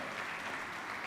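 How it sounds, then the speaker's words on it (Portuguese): Church congregation applauding during a family worship service, a brief, even burst of many hands clapping, heard somewhat distant and soft. "Quero um aplauso ao Senhor que nos ama"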